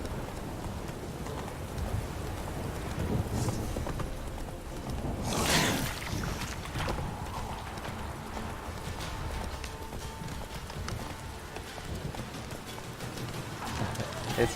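Steady rhythmic hoofbeats of a horse galloping in The Witcher 3 video game, fairly faint, with a whooshing swell midway and soft background noise throughout.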